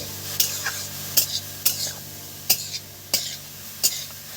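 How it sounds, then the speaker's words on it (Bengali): A spoon scrapes and stirs a papaya laddu mixture in a pan, giving six or seven sharp, evenly spaced strokes over a soft, constant sizzle, with no voices. "নেড়ে চেড়ে নিচ্ছি, খুব সুন্দর লাগবে।"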